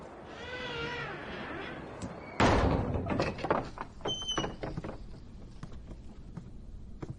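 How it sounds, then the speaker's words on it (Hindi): A door is shut in a Hindi-dubbed fantasy drama scene: after a few soft cat meows, one sudden heavy thud lands close by, followed by faint rattles and knocks that die away. "दरवाजा बंद करो।"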